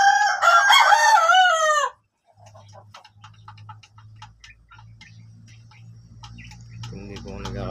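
Pet roosters crow loudly in a long harmonic call for about two seconds, followed by scattered faint clucks and ticking sounds over a low steady hum.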